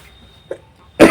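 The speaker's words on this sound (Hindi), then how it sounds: "हालांकि खांसी भी बहुत ज़्यादा हो चुका है" A single loud, close cough from a man teaching a maths lesson, sharp and brief at the very end after near-silence, with a faint throat sound shortly before.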